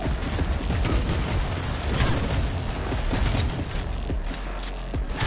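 Gunfire in the video game Cyberpunk crackles in rapid bursts and volleys among clanking mechanical effects, a dense, busy battle mix with no clear talk.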